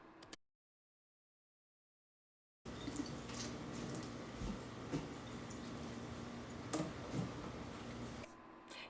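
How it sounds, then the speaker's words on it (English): Steady rush of tap water rinsing dye out of a wig during a hair-colouring job, a fairly even wash of sound that starts after a short silent gap and runs to the end. "I'm just rinsing the wig."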